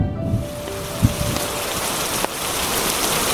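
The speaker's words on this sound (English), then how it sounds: "with a violent storm outside, as lightning again strikes with simultaneous thunder" Steady rain from a violent thunderstorm with hail outside, a continuous wash of falling water with a couple of brief soft knocks and no clear thunder clap, heard alone as a close, even ambience.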